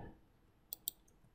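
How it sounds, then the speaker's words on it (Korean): Two light, quick clicks of Ctrl and F1 being pressed on a computer keyboard, spaced a fraction of a second apart, faint and otherwise quiet. "컨트롤 키 누르고 F1 눌러보세요"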